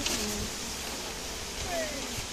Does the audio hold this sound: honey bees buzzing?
yes